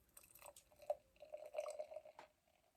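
Wine poured into a glass, a short close liquid trickle with a few drip-like splashes that swell briefly then stop, with no voices.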